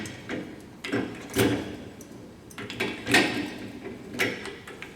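A wing nut is spun and tightened onto a tire balancer spindle holding a steel wheel, giving a few close metallic clicks and scraping turns in uneven bursts.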